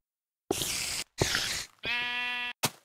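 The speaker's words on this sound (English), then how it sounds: "oh, there's the sheep I sheared" A sheep bleats clearly and close by in Minecraft, four calls in quick succession, the third drawn out and wavering, with silence between them.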